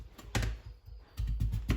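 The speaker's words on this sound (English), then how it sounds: "So I just like to cut the ends off and then I cut them into like circular rounds." A knife slices sweet potatoes into rounds on a cutting board, giving a few distinct close, crisp cuts with short pauses between them.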